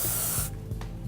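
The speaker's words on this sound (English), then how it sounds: "First, I'm gonna spray it pretty far away." Hairspray hisses from an aerosol can in one steady burst held at a distance from a small section of hair, then cuts off, followed by faint handling sounds.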